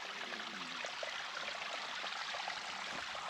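Creek water running along the Owl Bluff hiking trail, a soft, steady rushing trickle heard alone at low level and close by.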